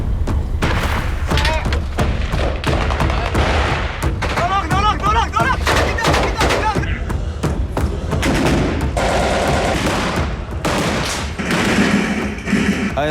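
Heavy gunfire in Mosul, Iraq rattles on without pause, dense bursts of shots and booming impacts piling up over the whole stretch, loud and close, with voices shouting faintly beneath it.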